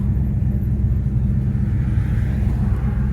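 A steady, low engine rumble from inside a moving 1968 Pontiac GTO, constant and droning throughout with no talking.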